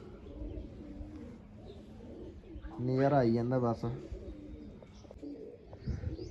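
Pigeons coo in a short harmonic burst close by, while someone talks in Punjabi over the birds and faint background noise.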